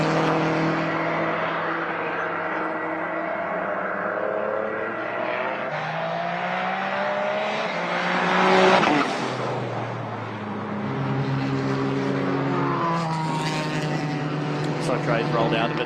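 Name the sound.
race car lap with upshifts and flat shift cut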